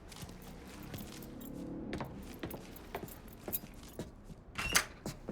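Keys jangle and clink in the Mafia III video game as they are grabbed, several bright metallic rattles and taps scattered over a quiet room background, with a louder cluster of jingles near the end.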